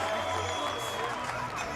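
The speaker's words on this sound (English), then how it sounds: "Listen to the crowd" Crowd at the Mr Olympia 2015 bodybuilding prejudging cheers and hollers for a favorite competitor, a steady wash of audience noise with mixed voices, brief and continuous.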